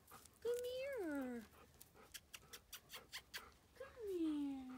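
A dog pants in a short run of quick, regular breaths at Ward Charcoal Ovens State Historic Park in Nevada, framed by a person speaking in high, coaxing tones before and after.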